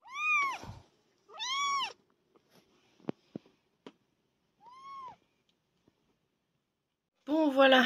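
Abandoned kittens give several distinct, fairly loud meows, two close together at the start, one alone midway and another at the end, with soft clicks and handling noises between them.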